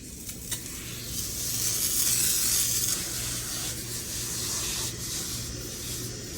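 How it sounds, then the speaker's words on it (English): A carpet-cleaning pre-spray sprayer hisses steadily and continuously at moderate volume over urine-contaminated carpet, with brief soft bumps and handling noises near the start and toward the end. "We're pre-spraying now."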